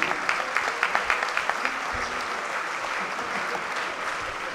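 Crowd applause for rugby club players at a season team presentation of Aviron Bayonnais, a dense sustained clapping from many people, with a few sharper claps standing out early before it settles into a steady wash.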